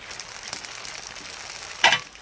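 Chili powder and coriander powder sizzle softly in a pan of potato and peas while being stirred for aloo matar chaat. A sharper scrape of the spoon comes near the end, and no one talks.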